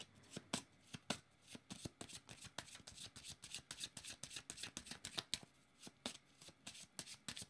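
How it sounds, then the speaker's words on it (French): Tarot cards are shuffled close up, making quiet rapid riffling snaps in an even, repeated rhythm over several seconds, alone without speech. "Je vais juste demander une autre carte ici."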